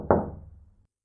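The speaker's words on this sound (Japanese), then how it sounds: "やがてその部屋の戸をジムがノックしました。" A single knock on a wooden door, a sharp close rap that fades over under a second, with no talk.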